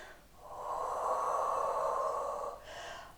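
A long audible breath drawn in through the nose during a standing Pilates workout, followed by a short exhale, close and clear with no talk.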